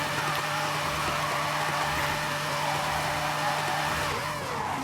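A car in the racing game Forza Horizon 5 drives and drifts with a constant, loud engine drone, sustained revving and faint tire noise filling the whole stretch, no voices.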